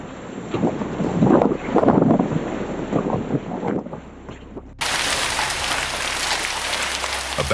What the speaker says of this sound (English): A backyard camera captured giant hail pounding down violently as a massive storm swept through central Oklahoma.